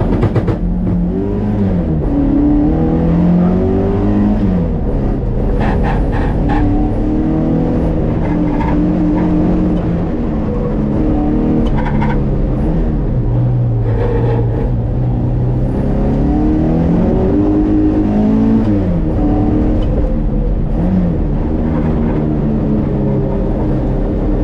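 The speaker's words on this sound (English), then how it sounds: "Maybe not so perfect next to the track while cars are going around" Race cars lap a track beside a property, their engines droning loud and continuous for the whole stretch, pitch rising and falling as they pass, with no talk over them.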